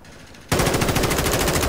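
Sustained automatic gunfire from Modern Warfare 2 roars in suddenly and continues as a loud, steady rattle of closely spaced shots.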